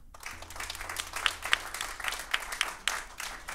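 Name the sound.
applause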